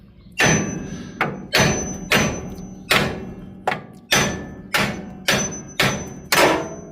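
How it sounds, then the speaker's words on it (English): A hammer strikes the steering arm of a 1965 Chevelle to knock it loose from the tie rod end, ten hard metallic thuds in a steady, evenly spaced rhythm, close up and with no talk. "I'm gonna use a hammer to see if that'll just pop it loose"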